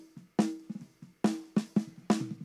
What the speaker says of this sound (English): And then when we blend in the sampled snare,